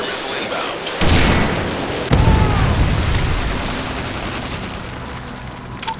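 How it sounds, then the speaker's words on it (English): A Predator missile strike in Call of Duty: Modern Warfare 3 multiplayer, two loud booming blasts a second apart amid gunfire, then a long rumbling tail, with voices over it. "Friendly Predator missile inbound."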